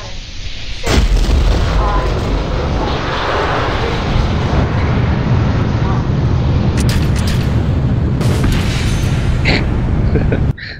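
A rocket roars and explodes at launch in Kerbal Space Program, a loud sustained rumbling blast with sharp bursts near the end, alone without talk.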